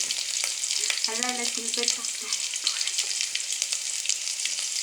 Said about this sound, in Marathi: तेल गरम करून ते गरम तेलात ते परतावे.